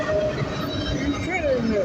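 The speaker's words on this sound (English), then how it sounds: "Train, big train following a call train." A Norfolk Southern freight train led by three locomotives, including a GP60, rolls past at night, a steady rumble and rail clatter with tonal horn-like whines, while a person talks over it.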